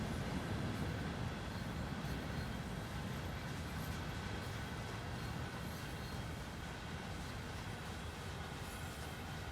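A BNSF ES44C4 locomotive hauls a long freight consist in Train Sim World 3, a steady rumbling roll of wheels and rail noise that holds at an even, close level throughout.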